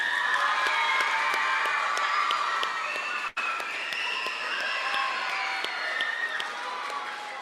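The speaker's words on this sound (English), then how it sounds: "Can we give Thien one more round of applause?" Sustained audience applause and cheering from middle school students for a guest speaker, a dense, steady wash of clapping that fills the room for several seconds with a brief break near the middle.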